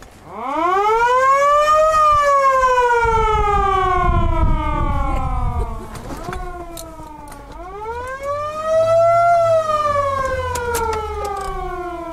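A loud police car siren on an American car wails in long rising and falling sweeps, two full cycles, close and unaccompanied by voices.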